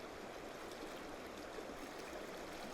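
Fast-flowing water of Clear Creek in a Colorado canyon, a steady broadband rush and babble that stays loud and even throughout, with no voices.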